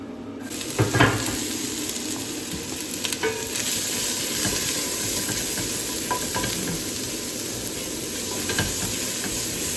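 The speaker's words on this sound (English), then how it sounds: "we can put the onion in" Chopped onion frying in olive oil in a pan, a steady close sizzle and hiss running throughout with a few soft stirring knocks, no voices.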